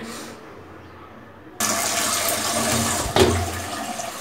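Water runs steadily into a sink bowl as cut sweet pumpkin pieces are washed, a quiet stretch giving way to a louder, continuous rush with a brief splash near the end.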